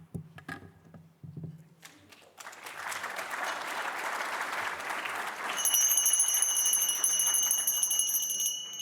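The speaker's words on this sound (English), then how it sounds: "How many times you heard this song from this fantastic bell?" A bell plays a tune at a conference event, its bright ringing tones entering partway through over sustained applause from the crowd.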